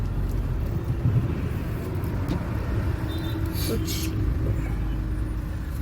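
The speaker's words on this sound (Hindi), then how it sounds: "ट्रैफिक बहुत है दिल्ली के अंदर। बहुत ट्रैफिक है।" Heavy road traffic in Delhi, a steady low rumble of cars and buses with a brief horn-like tone, continuous and fairly close, with a voice speaking over it.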